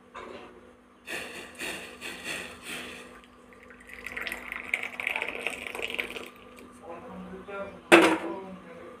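Freshly made red tea is poured into a cup, a soft trickle and light splashing in the middle of the clip, partly under a person speaking, followed by a brief sharp clink.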